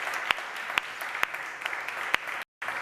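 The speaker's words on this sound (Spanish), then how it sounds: "Un fuerte aplauso para él." Light applause at an award ceremony honouring a longtime secretary of a retirees' association in Recaldeberri, made of a soft patter with a few sharper individual claps standing out. A brief silent dropout occurs near the end.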